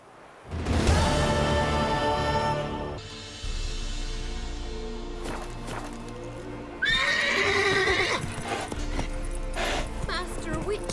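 A horse in The Witcher 3: Wild Hunt whinnies loudly and close, with clip-clopping hooves, game music and a game character's voice layered over it.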